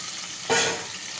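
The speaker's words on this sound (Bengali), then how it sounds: "মাছ ভাজাটা বসিয়ে দিলাম" Fish sizzling in hot oil in a pan in a Bengali home kitchen, with a short louder burst of crackle as it goes in, then a steady low hiss.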